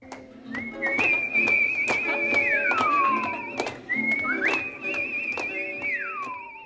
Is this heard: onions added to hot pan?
no